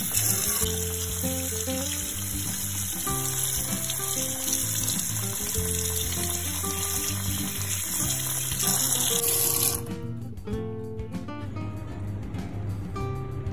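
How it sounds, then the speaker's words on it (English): Five chicken drumsticks are washed under a running tap in a kitchen sink; a steady, close hiss of flowing water continues for about ten seconds, then stops, with faint music carrying on behind it. "I'm using 5 drumsticks and washing it in the sink since it's the easiest"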